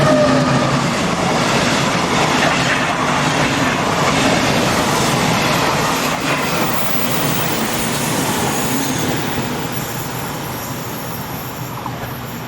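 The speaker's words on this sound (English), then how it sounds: "In advertising livery for the chemical firm Bayer, 101068 heads south on the 15th of June 2002" A Class 101 electric locomotive in Bayer advertising livery hauls its train south past a partly closed section of track, a loud continuous rush of wheels with some squeal, slowly fading toward the end.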